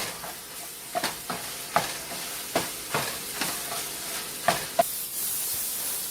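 Sausage fries in a pan for a breakfast tater tot casserole, a steady low sizzle broken by several sharp scraping stirs of a utensil against the pan, close and fairly quiet.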